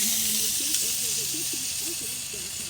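Bratwurst sausages sizzle on a Blackstone griddle pressed under a bacon press, a steady close hiss and fizz that holds throughout while a voice talks softly beneath it.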